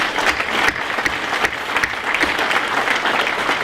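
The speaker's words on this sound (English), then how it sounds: "Give them a big round of applause" A dinner audience at a broadcasters' awards keynote claps steadily for two men coming up to the stage, a dense, loud wash of applause from a full room that holds at an even level throughout.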